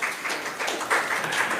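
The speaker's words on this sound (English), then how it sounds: "we'll allow some mild applause" Audience at a quorum court meeting gives mild applause, a short, fairly soft patter of many hands clapping together for under two seconds, heard from within the room.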